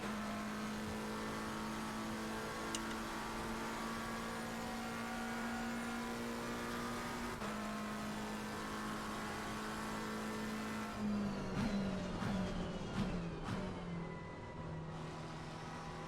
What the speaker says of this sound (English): I always downshift there and forth in this car just to try to get that extra power band as I'm coming back up.